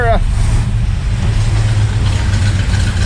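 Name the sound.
1961 Pontiac Laurentian car driving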